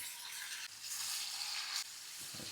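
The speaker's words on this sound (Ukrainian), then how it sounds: "Зараз вони почнуть смажитись." Food sizzles in a hot frying pan with a soft, continuous crackling hiss, quiet and close, swelling briefly in the middle.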